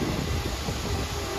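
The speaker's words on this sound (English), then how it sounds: "The tram car is nice." A Wildwood sightseer tram rolling past, a steady close rumbling drone of wheels and motor that stays loud and even throughout.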